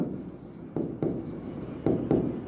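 Writing on a board during a chemistry lecture comes through as steady scratchy strokes with short breaks between marks, close and clear, with no talk over it.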